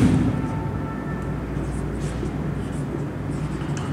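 Steady scratchy writing on a board during a Class 12 maths lesson on differentiability, a continuous dry rubbing texture that stays even and fairly loud for the whole stretch, with no talking over it.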